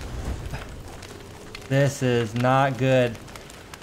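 Steady rain patters throughout a scene in Don't Starve Together, a continuous hiss under a character who speaks briefly partway through.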